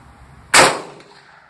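A Mosin Nagant rifle fired once at a target table: a single loud, sharp shot that rings out and decays over most of a second.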